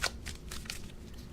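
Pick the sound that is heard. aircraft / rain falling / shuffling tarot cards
shuffling tarot cards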